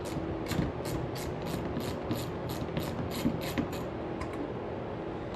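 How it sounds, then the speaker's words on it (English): A 9/32 ratchet backs bolts out of a pinched Corvette cover, ticking in an even, close series of clicks before trailing off near the end. "We're going to take 4 more bolts off, 2 at the bottom because our cover is pinched from them"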